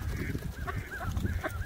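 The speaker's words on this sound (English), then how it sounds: "Those are cormorants." Two cormorants give a quick series of hoarse, honking calls, about five in under two seconds, fairly close over a rumbling outdoor background.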